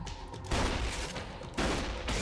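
Shotgun fire in the video game Borderlands 2, two loud, dense blasts about a second apart, each followed by a rumbling tail, with no talking.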